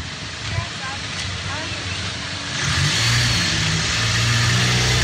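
A car engine revving and accelerating nearby in a parking area while the driver tries to maneuver out between parked cars, the engine rising louder in the second half, with voices talking over it.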